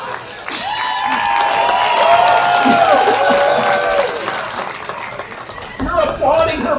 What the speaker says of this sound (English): You're applauding her bad behavior.